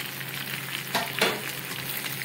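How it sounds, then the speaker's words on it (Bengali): Chicken and tomato sizzle and fry over a medium flame, making a steady crackle that swells briefly twice as the pan is stirred. "টমেটোটা দিয়েও আমি এটাকে কষাতে থাকবো"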